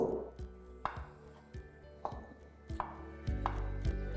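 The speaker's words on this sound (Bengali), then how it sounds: "এবার আলুর পকোড়াটা বানানোর জন্য আমি এখানে নিয়ে নিচ্ছি 6-7টা সেদ্ধ করা আলু, যেটাকে আমি রাফলি ছোট ছোট করে কেটে নেব।" A knife chops boiled potatoes into small pieces on a board, about eight distinct evenly spaced thuds close by, with no voices.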